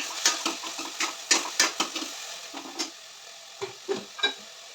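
Chopped tomatoes are stirred in a frying pan, a soft low sizzle broken by repeated scraping strokes and light clinks of the utensil in an irregular rhythm, fairly quiet and close, no speech.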